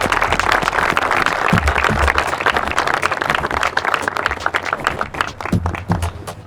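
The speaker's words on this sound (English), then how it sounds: "Everybody, round of applause." A group applauds a champion, with loud close clapping that carries a crisp, slightly irregular rhythm and thins into separate claps toward the end. Low thumps and background murmur sit under it.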